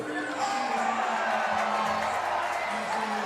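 A ballpark crowd at a baseball game between Team Australia and Hanwha sends up a steady wash of cheering and murmur, moderately distant and fairly quiet throughout.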